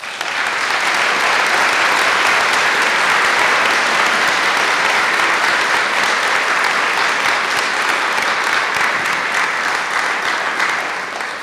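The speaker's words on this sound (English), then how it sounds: "Let's give them a round of applause." A large audience at a university fall convocation at UTEP applauds for over ten seconds, a loud, unbroken roar of clapping that stays level and then begins to taper at the end.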